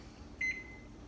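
An air fryer's timer gives a single short electronic beep as it starts, clear but quiet over a low room hum.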